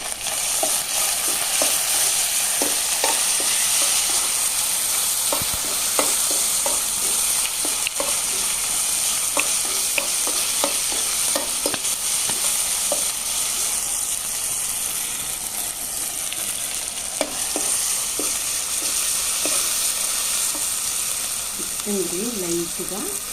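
Tomato pieces frying and being stirred in a pan for village-style chicken biryani, a steady loud sizzle with repeated scraping clicks of the spoon throughout, a voice faintly in the background.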